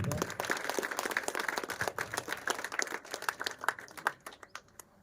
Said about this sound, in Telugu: మీ విచారణ గురువులు బాలరాజస్వామి గారికి మరియు మీ సహాయక విచారణ గురువులు సాగర్ ఫాదర్ గారికి గట్టిగా చప్పట్లు కొడదాం